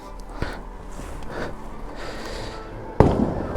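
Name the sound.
firecrackers bursting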